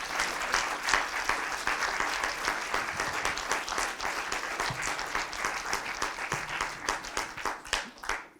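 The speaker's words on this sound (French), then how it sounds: "Et je voulais que vous l'applaudissiez encore une fois parce qu'elle le mérite." Audience applause at a public Octobre Rose breast cancer awareness conference, a dense, sustained roar of many hands clapping together that fades slightly at the end.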